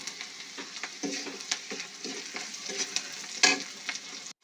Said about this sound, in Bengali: আমার পেঁয়াজ রসুন ভাজা হয়ে গেছে